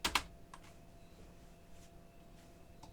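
A few keys being pressed on a computer keyboard that is less than a year old and starting to fail, with two quick clustered clicks at the start followed by fainter, sparse taps over a low room hum.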